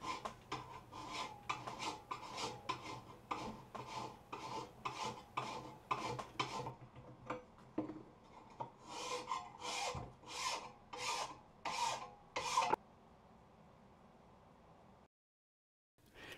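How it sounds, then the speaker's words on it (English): A hand file scrapes along the edge of a DR Field & Brush Mower blade in steady, rhythmic rasping strokes, close and distinct, roughly a dozen passes before it stops and a quiet room tone remains. "then fine-tuned the edge with a file"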